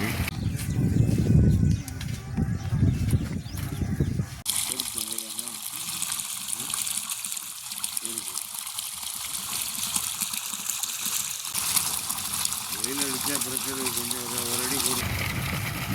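Water gushing from a 3 HP solar water pump on a farm in Madurai, a continuous rushing splash that runs throughout, with someone talking over it at the start.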